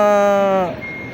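A trailer truck backing up during a practical driving course sounds its reversing beep, a loud, close electronic tone that holds for over half a second and then cuts off, leaving quieter background noise.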